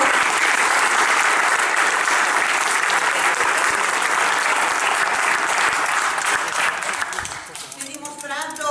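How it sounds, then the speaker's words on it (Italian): Prolonged applause from an audience at a political presentation of a mayoral candidate and her lists in Portogruaro, dense clapping of many hands that fades near the end as a voice begins speaking. "permettetemi di fare un ringraziamento e un applauso al nostro Presidente Zaia"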